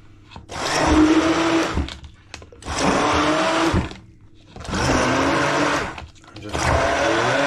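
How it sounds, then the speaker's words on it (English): A stick blender purées San Marzano tomatoes for pizza sauce in a wood-fired pizza kitchen, running in four loud, close whirring bursts of about a second and a half each, separated by short pauses. "So what I've got is one of these stick blender. So I'm gonna go on each tomato."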